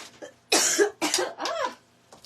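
A woman with a lingering illness coughs several times in quick bursts, close and loud, with a faint breathy sound before the first cough and no speech.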